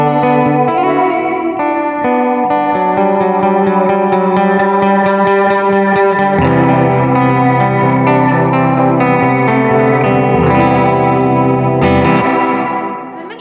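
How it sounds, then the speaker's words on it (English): An electric guitar, a Fender Professional II Jazzmaster, runs through a Walrus Audio Mako R1 pedal on its plate reverb setting with pre-delay, giving loud sustained chords and single notes with a lush, echoing tail and no talking. "I don't like a lot of pre-delay with my plate reverb."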